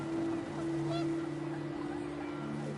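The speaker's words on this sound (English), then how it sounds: "The wind picked up, and panicked geese appeared and quickly went." Panicked geese honk in a PS4 video game over steady wind and a sustained low tonal drone, the calls brief and blending into the game's ambient soundscape.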